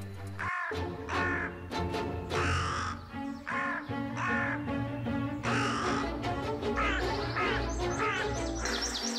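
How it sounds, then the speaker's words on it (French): Repeated harsh crow caws, several birds calling in quick succession over a steady low background hum, loud and close. "En Corrèze, des brebis sont régulièrement attaquées par des corneilles qui leur crèvent les yeux."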